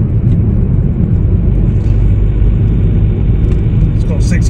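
A high brake horsepower hatchback with six gears makes a steady, loud low engine drone and road rumble from inside the cabin, heard throughout while someone talks.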